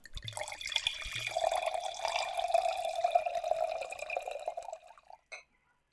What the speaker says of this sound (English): All right, Denny, I'm going to go ahead and pour.